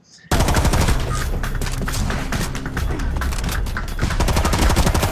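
The player's weapon in the R.I.P.D. video game fires loud, rapid automatic bursts that begin abruptly and continue almost without pause, a dense, booming rattle of gunfire.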